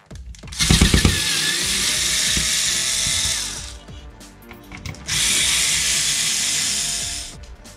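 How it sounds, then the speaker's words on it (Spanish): A power screwdriver whirs in two sustained bursts, backing screws out of a Nintendo 64 console, with a brief ratcheting start and a quieter pause between the runs. "pues así ya hemos quitado todos los tornillos que hemos visto en la parte superior"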